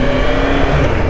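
The engine of a barn-find Yamaha FZR600 motorcycle, ridden with poor clutch control, gives a loud, close, steady droning note with no break and no talking.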